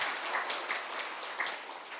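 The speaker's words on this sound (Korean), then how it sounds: "크게 한번 박수 돌리겠습니다" Sunday worship congregation in a church clapping together, a soft, dense patter of applause heard faintly at a distance with no voices.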